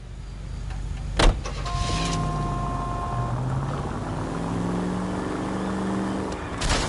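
A car in the video game L.A. Noire drives along with a steady engine drone that shifts pitch as it goes, broken by a sharp thump near the start and another toward the end.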